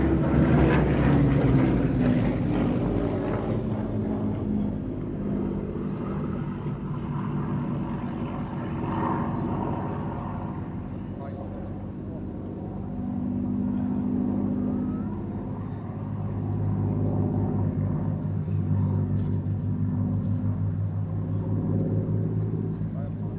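Hawker Hurricane and Spitfire warbirds flying at an air festival, their piston engines droning steadily at a distance and swelling and fading, with a commentator talking over the aircraft noise.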